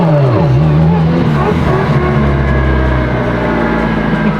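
A modified Honda NSX engine revving high, a loud steady roar whose pitch drops briefly and then climbs again, sustained and close, with no talk over it.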